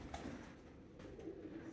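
Pigeons cooing inside an abandoned school building: low, soft throaty coos repeat faintly through a steady hiss of the empty space, somewhat distant, with no voices.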